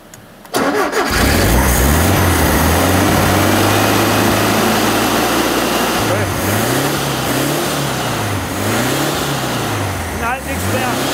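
A VW bus engine running on old petrol starts and settles into a loud, close, rough idle, then its pitch rises and falls in several revving swells.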